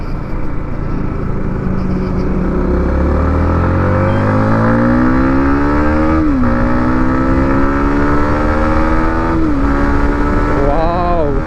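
A 2025 Yamaha MT-15 motorcycle accelerating hard on a highway, its engine note climbing through the gears in rising sweeps with brief dips at each shift, loud and close against steady wind rush.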